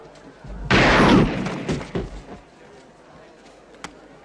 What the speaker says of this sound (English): he just seems to shoot him out of nowhere